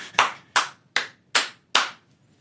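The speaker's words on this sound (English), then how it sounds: "I'm giving her a round of applause" Five slow, sharp hand claps, evenly spaced and close, each ringing out briefly before the next, with no talk.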